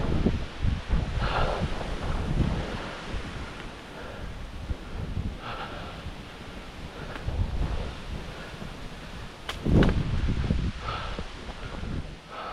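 Wind on a mountain hiking trail rushes steadily past the microphone in gusts, with faint rustling and breathy buffeting throughout.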